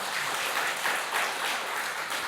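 A church congregation applauds during a Sunday worship service, a continuous wash of many hands clapping at an even, moderately loud level with no break.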